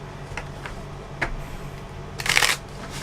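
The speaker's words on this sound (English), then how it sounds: "So I'm going to shuffle the cards for your general reading." Tarot cards shuffled for a reading, giving a short burst of riffling near the end, with a few faint taps earlier against a quiet room.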